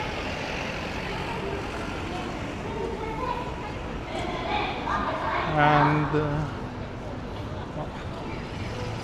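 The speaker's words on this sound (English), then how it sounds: "some annoying loud car" A loud car passes along a Tokyo street during a walk from Tokyo Station toward Takao, its engine swelling to a peak midway before fading into the steady traffic hum, while a person talks over it.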